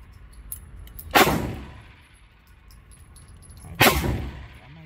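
A Hi-Point C9 pistol fires two sharp, loud shots about two and a half seconds apart, each ringing out briefly in an outdoor setting with low background noise between them.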